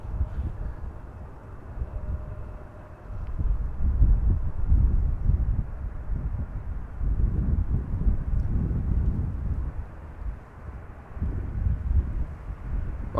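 A SunExpress Boeing 737-800 arriving at Amsterdam Schiphol, heard as a low, distant jet rumble that swells and fades in waves under gusty wind noise.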